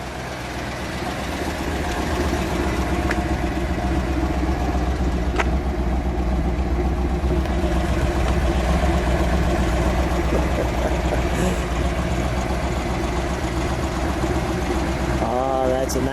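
A 1969 Dodge Charger Daytona with a 426 Hemi V8 idles steadily and loudly nearby, a continuous low rumble lasting throughout, with some voices faintly over it.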